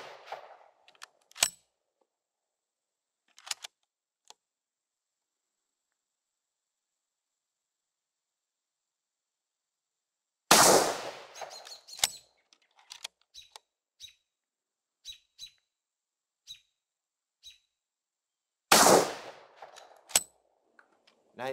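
Mauser 1895 rifle firing Aria .375 H&H ammunition outdoors, two sharp, loud, close blasts about eight seconds apart, each followed by clicks and rattles of the action between long quiet stretches.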